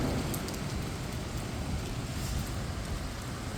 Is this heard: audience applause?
no